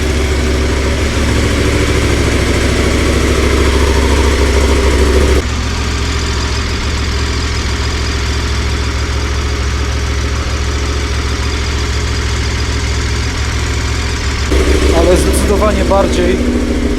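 A KTM 1290 Super Adventure R with a modified exhaust idles loudly and close, a steady thumping twin-cylinder rumble that holds for the whole stretch, with a voice speaking over it near the end.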